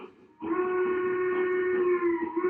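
A model railroad train gives a long steady whistle blast, a clear sustained tone starting sharply and holding loud and close with slight wavering.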